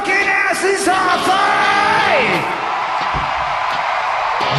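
Crowd screaming and yelling at full volume, several voices overlapping in long, wavering shouts that rise and fall, with a few sharp knocks underneath.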